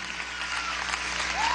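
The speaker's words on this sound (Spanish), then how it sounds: "Un aplauso a Néstor Francia." Applause from a theatre audience at the premiere of a children's theatre production of Don Quixote, a continuous, even roar of many hands clapping with a faint whistle near the end.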